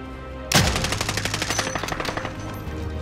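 Rapid automatic gunfire in a battle royale video game erupts after a brief quiet start, then continues as a loud, steady stream of shots with a quick, regular rhythm.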